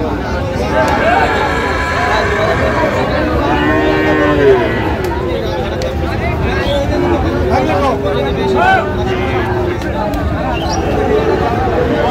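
Four-to-five-month-old Friesian bull calves mooing repeatedly at a busy cattle market in Dinajpur, several drawn-out calls rising over a steady hubbub of crowd chatter and background voices.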